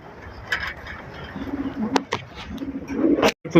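Fancy racer pigeons coo in low, soft, repeated calls close by, with a few sharp clicks and rustles between them and no talking.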